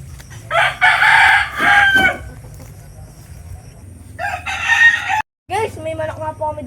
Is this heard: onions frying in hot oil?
no